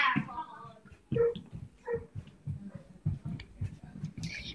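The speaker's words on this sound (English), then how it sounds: "There's an evil dog." A dog barks and whimpers in short, close yips between stretches of people talking over a quiet background.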